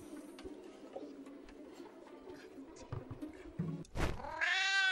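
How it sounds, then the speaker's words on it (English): A cat in the video game Downfall lets out a loud, drawn-out meow near the end, following quieter ambient rumbles and scattered thuds. "Okay, it's a cat."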